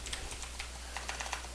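Quick, light typing on a computer keyboard, a steady patter of soft key clicks over a low hum, close and faint.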